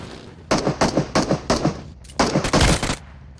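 Automatic gunfire from bots in the battle royale game PUBG, several loud close bursts of rapid shots in quick succession with brief gaps between them, and no talk.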